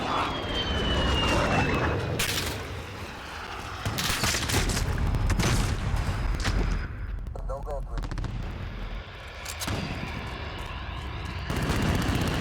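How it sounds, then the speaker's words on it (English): Video game combat with a friendly precision airstrike: continuous heavy gunfire and booming explosions, with aircraft noise and a descending whine, loud and dense throughout while a voice talks over it. "Friendly precision airstrike on."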